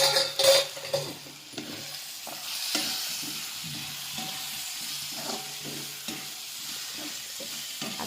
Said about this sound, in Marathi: आता याला चांगलं मिक्स करून घेणार आहे व हलवीत असंच आपलं 2 मिनिटं हलवत राहायचं आहे.